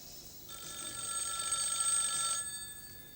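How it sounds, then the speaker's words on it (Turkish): A telephone rings once with a bright electronic trill that starts, holds for about two seconds, then stops, heard on its own. "Telefon."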